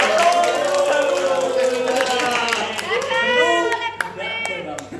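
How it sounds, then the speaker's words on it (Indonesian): A classroom gives a student a round of applause, with scattered clapping and children's voices talking and calling out together, close and fairly loud throughout. "Yuk beri aplaus untuk Mas Dava"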